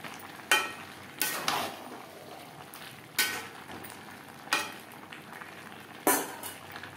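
Mixed vegetables for a Bengali niramish panch mishali sabji are stirred with ghee, garam masala powder and roasted spice powder: five or six distinct scraping strokes in an irregular rhythm over a faint, quiet sizzle.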